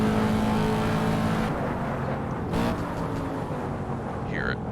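A Corvette C7 race car in the Assetto Corsa racing game holds a continuous loud engine drone under power, with a brief shift or downshift midway and no audible talk.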